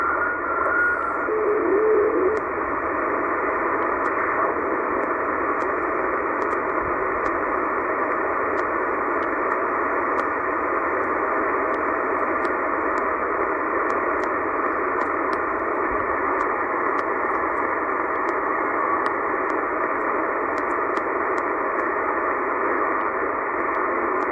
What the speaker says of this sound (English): Some sort of signal here. Can barely hear it under the noise.